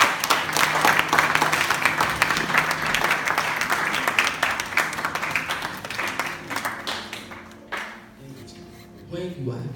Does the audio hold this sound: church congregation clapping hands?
yes